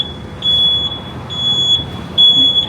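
A high, steady electronic beeping repeats in short pulses over low rumbling background noise, a truck's reversing alarm nearby on 7th Avenue, New York City.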